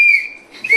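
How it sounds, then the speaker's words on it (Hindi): A small toy whistle blown indoors, giving a loud, shrill tone that dips briefly in the middle before sounding again, all within under a second, with no voices. "नींबू ने ये सीटी लिया है, ये नीचे लेके जाएगा और सभी फ्रेंड्स को बजा के बुलाएगा"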